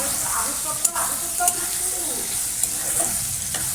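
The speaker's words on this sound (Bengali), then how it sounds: "হলুদ দিয়ে দিই শুধু নুন দিয়ে ভাজছি" Chowmein noodles fry with turmeric and salt in a hot pan, a steady close sizzle with occasional scraping stirs and light clinks of the utensil.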